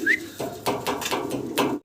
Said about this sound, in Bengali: এটা রেসার ভাই, রেসার কবুতর কালার কিন্তু খুব সুন্দর